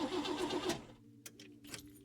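A car engine in a video game cranks briefly and fails to start, with a short grinding turnover followed by faint clicks and rattles, near and quiet.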